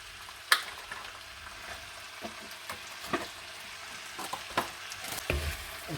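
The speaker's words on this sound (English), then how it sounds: "We're going to add in all of our vegetables." Vegetables are stir-fried in a pan on a stovetop, giving a quiet background sizzle broken by several sharp knocks and scrapes as they are tossed.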